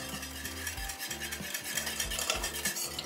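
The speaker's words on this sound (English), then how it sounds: "So we're just bringing it up to another simmer, just like we had a minute ago." A spoon scrapes steadily around a pot of simmering banana pudding custard with eggs, in a regular, close stirring rhythm over a soft bubbling bed.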